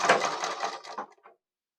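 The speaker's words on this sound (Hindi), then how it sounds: "इसे लपकी सिलाई से पक्का कर लेते हैं।" Sewing machine stitching a double-folded half-inch hem on a kurti sleeve, a close burst of mechanical whirring and clatter that trails off and stops after about a second.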